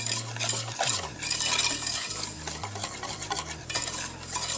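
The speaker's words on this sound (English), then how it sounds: "I'm going to take a wire whisk and blend this together well" A wire whisk beats a gravy mixture in a pot on an unlit burner, fast continuous rattling and scraping against the metal with rhythmic strokes, close and fairly loud.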